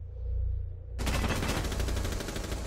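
A new shotgun in the video game Rainbow Six Siege fires after a quiet moment, and a loud burst of gunfire follows. The sound is dense and sustained, close and loud, with no talk.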